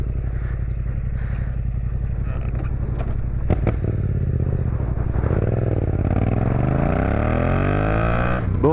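A scooter with no plates is kicked over and its small engine catches, puttering with clatter before revving up in a rising whine, close by, with voices around it.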